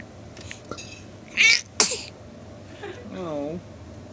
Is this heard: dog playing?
no